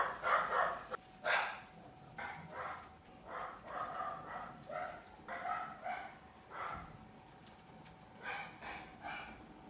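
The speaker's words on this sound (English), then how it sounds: "Dog's barking." A dog barks repeatedly in short bursts at a moderate distance, some barks coming in quick pairs, over a quiet background hum.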